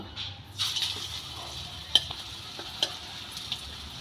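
Polta (pointed gourd) leaf fritters frying in hot oil, with a soft steady sizzle punctuated by a few sharp clinks and taps of a utensil against the pan, close and fairly quiet, no voices.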